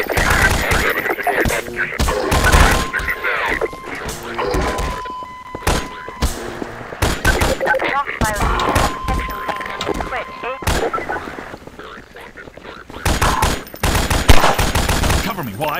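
Bursts of gunfire in the Garry's Mod video game during a fight with Combine civil protection, rapid automatic volleys and single shots in irregular clusters, loud and close, with brief tonal electronic beeps and short quieter gaps between bursts.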